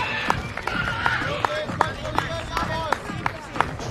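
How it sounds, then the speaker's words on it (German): Spectators in the stadium curve clap along in a steady rhythmic beat during a women's 3000m race, sharp regular claps over crowd murmur at moderate distance. "ihr beginnt oben schon in der Kurve jetzt mit dem Applaus, mit dem Anklatschen"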